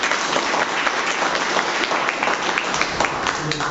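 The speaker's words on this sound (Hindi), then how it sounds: "पर आपकी तालियां ज्यादा चाहिए" An audience at a seminar on chemical-free organic farming breaks into applause, a loud, dense, sustained wash of clapping from a crowd that rolls on steadily throughout.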